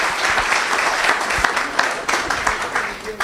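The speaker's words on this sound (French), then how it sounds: "Alors applaudissons notre frère pour l'homme de Dieu qu'il est." A church congregation applauds steadily for a preacher, dense clapping sustained throughout with a few voices mixed into the crowd.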